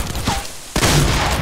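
Gunfire in the Fortnite video game, a dense volley of rapid shots, a short lull, then another loud sustained burst close by.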